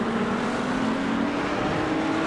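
Race cars in a sim racing game at Misano World Circuit, a steady engine drone with faint passing cars mixed into a constant loud roar that holds for the whole stretch.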